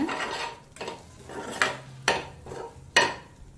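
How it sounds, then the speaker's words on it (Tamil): A utensil stirs cooked egg into masala for Maggi noodles in a metal pan, giving several sharp scraping clanks at irregular intervals with softer rubbing between, close and alone. "இப்போ அதை அந்த மசாலாவோட சேர்த்து மிக்ஸ் பண்ணிக்கோங்க."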